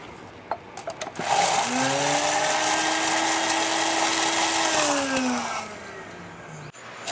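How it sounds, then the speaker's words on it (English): An electric drink mixer whirs steadily for several seconds while blending an Ancient Mariner cocktail with simple syrup, spinning up after a few clicks and winding down at the end. "Again, one more time with the drink mixer."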